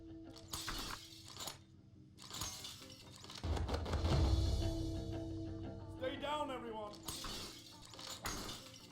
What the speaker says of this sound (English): I think sound of glass as well smashing if they're close enough